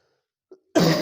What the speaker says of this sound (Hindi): खांसी थोड़ा ज़्यादा आ रही है